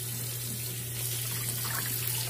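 Hot tap water pours steadily into a sink during purse and wallet cleaning, a continuous close rushing stream over a low steady hum.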